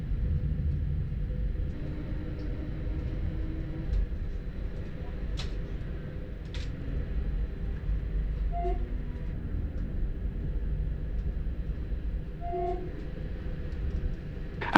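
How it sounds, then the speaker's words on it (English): Stadler electric multiple unit train climbing mountain gradients on the Mariazellerbahn, a steady low rumble of running gear with faint squeals, heard from inside the carriage throughout. "Our Stadler EMU is making light work of the gradients"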